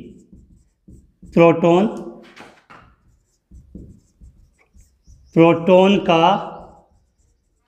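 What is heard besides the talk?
writing on a board while teaching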